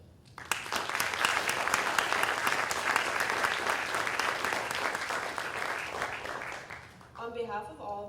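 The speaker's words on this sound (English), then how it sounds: "Can you please join me in giving another round of applause for our incredible panelists, Kinsey and Mr. Bishop." A summit audience breaks into sustained applause for the panelists, with a sharp first clap swelling into a dense, loud ovation that lasts several seconds before fading as a voice begins speaking.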